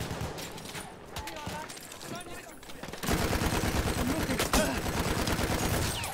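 Rapid automatic gunfire from Battlefield 1 breaks out halfway through and keeps rattling loudly after a quieter stretch of distant battle noise, with a voice talking faintly underneath.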